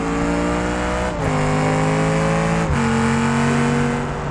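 A car in a driving simulation accelerates hard through gears, its engine drone rising in pitch, dropping briefly at each of two shifts, then climbing again; loud, close and steady with no voices.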